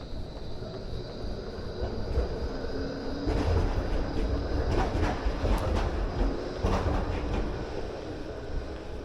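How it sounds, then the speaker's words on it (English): Melbourne city tram pulling away on an early Sunday morning, a steady rolling rumble and rattle of wheels on rails that builds slightly, heard from nearby amid street ambience. "but then the tram takes off again."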